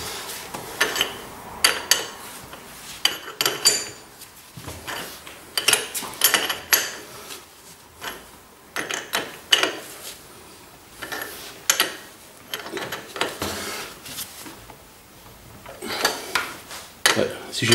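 A wrench works the cylinder head bolts on a Derbi 50 cc moped, giving close, irregular metallic clicks and clanks in short bursts with brief pauses between them.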